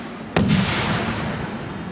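Fireworks exploding at a show, one sharp loud bang followed by a long crackling, hissing rumble that fades slowly, with another pop at the very end, close and loud.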